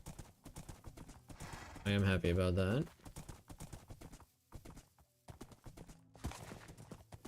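Horse hooves clip-clop at a steady, quick beat through snow in a video game, close and clear throughout, with a brief loud tonal burst near the middle and a person talking over parts of it.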